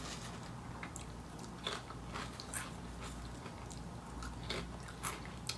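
Lay's potato chips crunched close up in a quiet room, a run of crisp, irregular bites and chewing crackles spread through the stretch.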